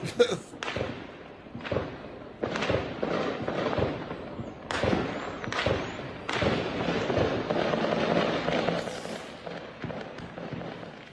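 Gunfire from a war-zone video played back in a room: sharp, booming bursts crack out irregularly, some loud and some softer, with murmuring voices and room noise in between.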